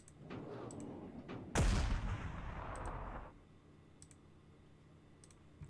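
A single artillery blast from the World War II strategy game Panzer Corps 2 lands as a sharp boom with a rumbling tail lasting about two seconds, framed by faint mouse clicks before and after.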